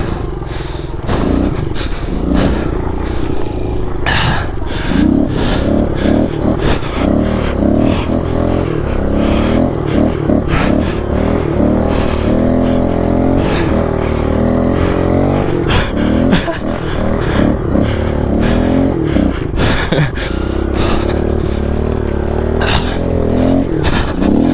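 A 2003 Kawasaki KLX 110 pit bike ridden hard on snow, its small single-cylinder engine buzzing loudly and continuously, revving up and down throughout with clattering bumps, close to the microphone.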